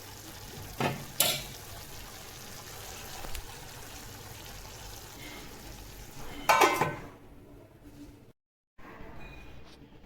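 Broad beans poriyal with ground coconut cooking in a pan, a soft continuous sizzle with a few sharp clanks of a spoon or lid against the pot and a brief pause near the end.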